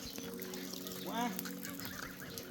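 A single honk from a goose close by, standing out briefly over a soft background hum and trickling water.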